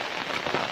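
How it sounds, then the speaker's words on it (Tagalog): Heavy rain from a typhoon pours down in a brief, dense hiss of drops drumming on surfaces, loud and steady, with no talk. "Ayan, ang lakas ng ulan, gawa ng low pressure area ba to? Bagyo."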